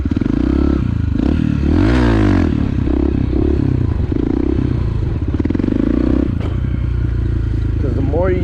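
A motorcycle holding a slow wheelie, the engine loud and close with low steady throttle and brief pitch rises, some clatter and scraping, and a voice talking over it.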